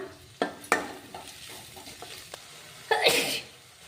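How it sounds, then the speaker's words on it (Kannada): Seasoning frying in a pan for dill-leaf rice crackles in short, sharp sputtering bursts. A loud hissing spit comes near the end over a quiet background. "ಸ್ವಲ್ಪ ಫ್ರೈ ಮಾಡೋಣ"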